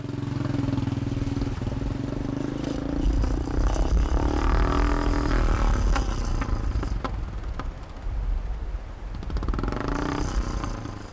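A motorcycle ridden through the Himalaya rumbles and revs close by, its engine note rising and falling as it rattles over rough ground and river crossings.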